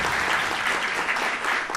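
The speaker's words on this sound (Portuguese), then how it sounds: "para quem eu peço uma salva de palmas" An audience applauds the Klink family at an event at Sesc Vila Mariana, a dense, loud burst of clapping from a crowd in a hall, continuous throughout the short stretch.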